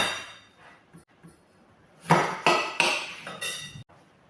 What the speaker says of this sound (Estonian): Kõigepealt ma tükeldan arbuusi.